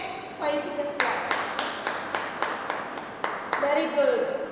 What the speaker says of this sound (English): Next, five fingers clap.